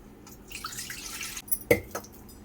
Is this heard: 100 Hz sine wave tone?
no